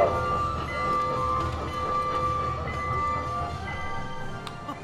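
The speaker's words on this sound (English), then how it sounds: "There's a train coming." A ride-around train moves through an indoor theme park in Dubai, a steady rumble and rolling clatter with faint whistle-like tones over busy park ambience, fairly close and continuous.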